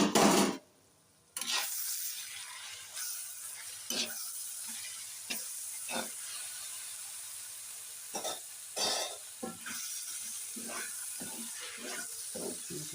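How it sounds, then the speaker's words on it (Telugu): A cabbage and moong dal curry sizzles softly in a pan as the lid comes off, with scattered stirring scrapes and clinks over a low, steady frying hiss. "ఒకసారి మనం మూత అయితే తీసి చూసుకుందాం అండి కర్రీ ఎంతవరకు వచ్చిందో"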